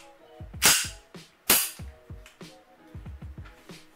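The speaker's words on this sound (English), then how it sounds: "take out your magazine and make sure the gun is empty" Sharp metallic clacks and clicks from handling a 1911 airsoft pistol as its magazine comes out, a few loud snaps among smaller taps, close and isolated.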